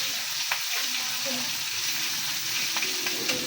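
Chicken feet frying in oil give a dense, steady sizzle, loud and close, with a few faint stirring knocks underneath.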